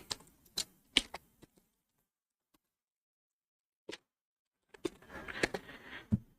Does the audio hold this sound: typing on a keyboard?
yes